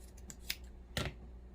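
Scissors snip through stuffing on a no-sew sweater gnome, giving a few quick close blade clicks followed by one louder, fuller cut, with quiet room tone around them.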